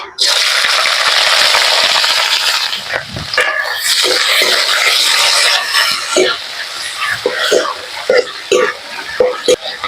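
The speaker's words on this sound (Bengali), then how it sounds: "পেঁয়াজটা ভালো করে ভেজে নেব" Onions frying in oil in a pan for a Bengali fish curry, a loud steady sizzle that breaks into crackling and stirring noises partway through while a person talks.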